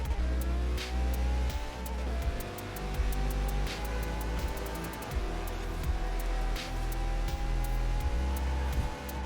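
A car engine in the video game Forza Horizon 4 revs continuously, pitch rising and falling through gear changes, with sharp ticking clicks layered over the steady drone.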